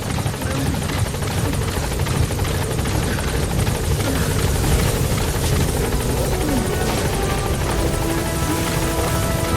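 The support helicopter in Metal Gear Solid V: The Phantom Pain arrives with a loud, close, continuous rotor thrum and engine whine, holding steady throughout with no talk over it.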